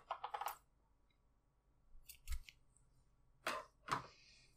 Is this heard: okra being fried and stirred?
no